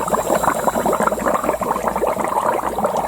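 Fluid bubbling and gurgling from leaking cylinder sleeves of an IVECO Stralis Trakker Cursor 10/13 engine under a pressure test, a continuous close, busy burble with no talk.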